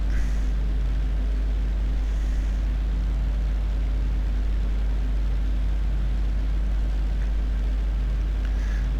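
Supermarine Spitfire LF Mk IX piston engine in the DCS flight simulator, throttled back to reduced RPM, giving a steady low droning hum that holds evenly throughout with no talk.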